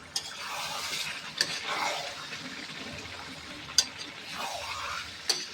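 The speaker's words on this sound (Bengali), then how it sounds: "ভালো করে নাড়াচাড়া করবো" Chicken pieces for pulao are turned in a pan with a soft, low sizzle and scraping, while a utensil taps the rim with a few crisp clinks at intervals.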